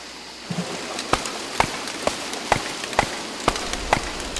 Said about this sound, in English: Now, since it's raining, I really won't be able to get a gobbler.